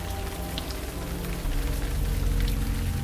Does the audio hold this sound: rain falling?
yes